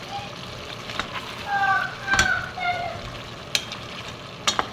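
Sliced vegetables and potatoes hit a pan of tomato-braised chicken, giving a soft continuous sizzle with a few louder spits and bursts as the food is stirred and settles.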